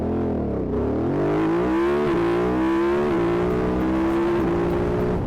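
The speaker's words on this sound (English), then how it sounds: "BMW with that factory-fitted Akrapovic sounds awesome" A BMW F 900 GS motorcycle with a factory-fitted Akrapovic exhaust revs and accelerates, its engine note climbing in pitch through the gears, loud and close for several seconds.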